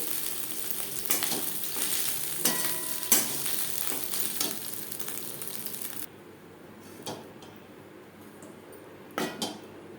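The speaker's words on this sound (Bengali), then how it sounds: "মাছ ভেজে নেওয়া কড়াইতে আবারও তেল দিয়েছি দিয়ে দিলাম হাফ চামচ গোটা জিরে" Whole cumin seeds hit hot oil in a wok used for frying fish and crackle in a loud, bright sizzle, with spoon clinks against the metal. The hiss then drops to a quieter fry with a few more taps.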